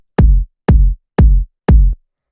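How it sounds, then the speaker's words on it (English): Dry, pitched kick drum sample for disco house hit four times at an even pace, each a punchy short thump with a quick decay, loud and isolated. "the first sound that we have here is just the kick"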